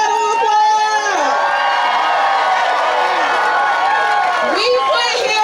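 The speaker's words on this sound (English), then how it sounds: "Y'all give our governor another round of applause." A crowd at a teachers' rally in North Carolina cheers and whoops for the governor. Loud overlapping shouts and voices go on continuously, with applause mixed into the din.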